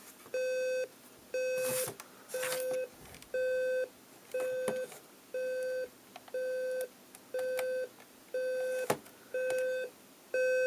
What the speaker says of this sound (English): It actually turns on the alarm. So I guess there's our alarm demonstration.